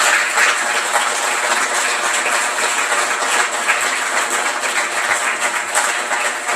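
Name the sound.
audience applause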